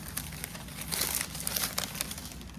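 Paper receipts handled and crinkled up close, a run of soft irregular rustles and crackles that swell in the middle, fairly quiet, with no talk.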